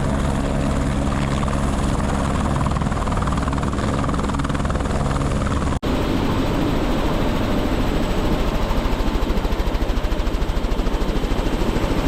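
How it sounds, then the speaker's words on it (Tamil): A helicopter on a glacier tour near Skagway, Alaska, its rotor throbbing loud and close, a steady thick wash of engine and blade noise broken by a brief cut midway. "நம்ம ஹெலிகாப்டர் அங்கேருந்து வர"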